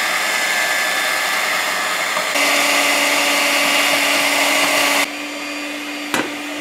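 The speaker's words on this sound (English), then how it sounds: "while we're getting our eggs beaten" Eggs being beaten for Guyanese Christmas egg nog with an electric mixer, a steady loud whine that shifts pitch with speed changes and drops away near the end, followed by a short clunk.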